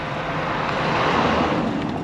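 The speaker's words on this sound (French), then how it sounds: "mais il y a du vent" Wind blows hard outdoors on an outing in Morocco, a dense, loud roar buffeting the microphone without letup, with no voices.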